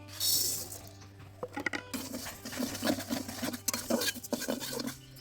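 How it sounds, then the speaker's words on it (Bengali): Dry lentils being fried for a fish-head dal rattle and scrape as a spatula stirs them around a pan, giving close, irregular clicks and scratches over a low hum. "এবার আমি ডালটা ভেজে নেব।"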